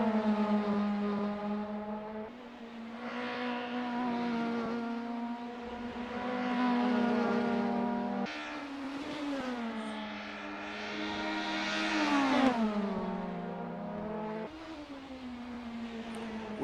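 Highly tuned, race-ready Alfa Romeo 156 WTCC cars race in a Formula Alfa championship, engines droning and revving continuously with rising pitch through gear changes, shifting and sustained at moderate distance without pause.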